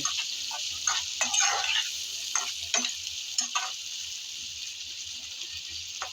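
Prawns stirred and fried in a pan give a bright, constant sizzle, with bursts of scraping from the spatula early on that fade to steady frying alone.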